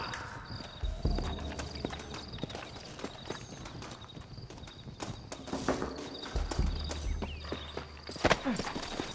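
Hollow horse hoof clip-clops in Red Dead Redemption sound at a walking pace under busy game noise and occasional voices, with a few louder thuds.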